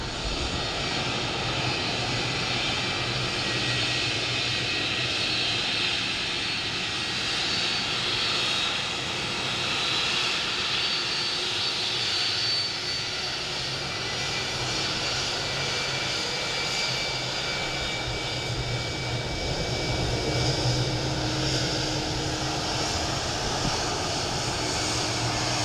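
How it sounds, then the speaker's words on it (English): A United Boeing 757 from New York taxis toward its stand at Dublin Airport, a steady jet engine whine and broadband roar holding at a constant distance for the whole stretch, with no voices over it. "So our United 757 from New York in the US of A, taxiing into Sierra 5."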